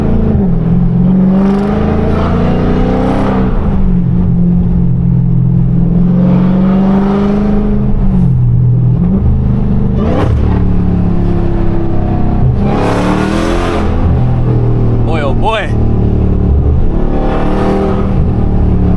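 A loud Dodge Hellcat engine roars close by on a city street, pitch swooping up and down as it revs and drops through gears, with blips on downshifts.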